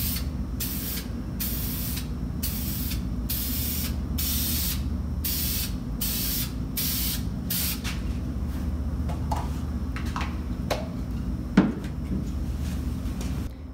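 A spray can lays clear coat onto a test headlight in a run of short hissing bursts with brief pauses, followed by light clicks and handling noises of the can and lamp.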